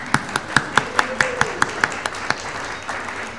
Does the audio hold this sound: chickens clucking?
no